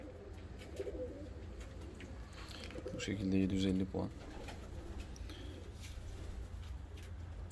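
Fancy and costume pigeons coo in a loft, a low rolling burst rising midway, while someone talks over them.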